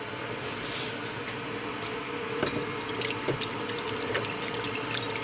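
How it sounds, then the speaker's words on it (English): Homemade taco sauce is poured into a strainer, making a continuous, soft, rushing liquid splash like running water, fairly quiet and unbroken, with no talking. "Let me situate it so I can pour my taco sauce in the strainer so we can strain it all out."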